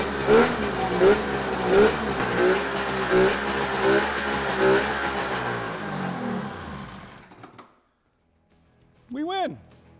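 A snowmobile engine with hand-filled carburetor bowls fires up after repeated pull starts and runs with loud, uneven revving surges, then cuts out into near silence before a brief burst of speech.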